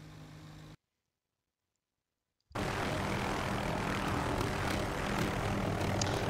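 A helicopter engine in the combat flight game DCS World drones loudly and steadily, cutting out into near silence for about two seconds before the dense engine roar returns at full strength.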